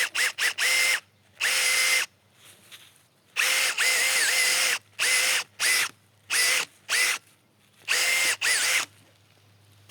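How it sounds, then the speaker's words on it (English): A power bulb auger drills into stiff garden soil for planting native forest bulbs, the motor whirring loud and close in about nine short bursts of varying length, with quiet gaps between. "I'm just gonna use a bulb auger in this area."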